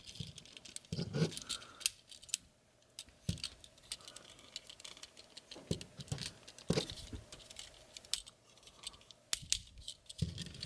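A plastic Takara Tomy Transformers Masterpiece MP-34 Cheetor figure being folded and transformed by hand gives sparse, quiet clicks, snaps and soft plastic rattles in irregular bursts, close up, with short silent gaps between them.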